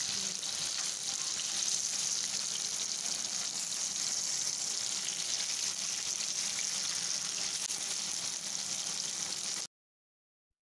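Kanakathan fish (mackerel) frying in a pan, a steady bright sizzle of hot oil running without a break for about ten seconds and then cutting off, with no voices over it.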